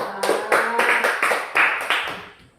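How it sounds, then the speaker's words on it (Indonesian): A classroom of pupils claps hands together in a short round of about half a dozen crisp, evenly spaced bursts, close and fairly loud, tapering off at the end. "Tepuk tangan dulu."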